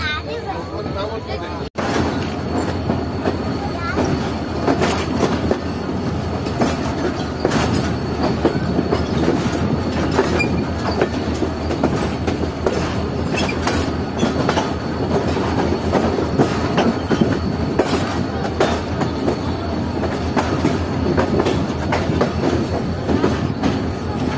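A train approaching along the track near Rohri, with a continuous rumbling roll, rhythmic clickety-clack of wheels and occasional squeals, loud and steady for the whole stretch, with voices talking faintly beneath.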